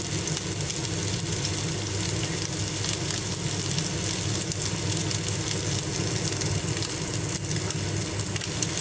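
Steady, dense sizzling of ham, tomato and mushrooms frying in a pan, continuous and fairly loud throughout with no talking.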